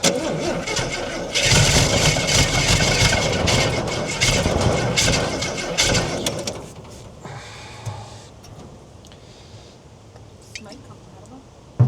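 A 1968 Ford Falcon parked since 1990 cranks and fires, its engine roaring loudly for several seconds, then settling to a quieter idle as voices talk nearby.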